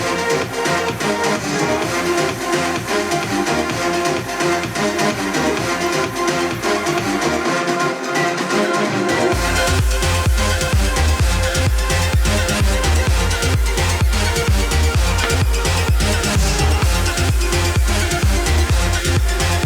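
An electronic dance track reaches its drop with a trumpet melody and a lead top melody. A dense, loud mix builds over a pulsing beat, then thick bass kicks in about halfway through and drives on steadily.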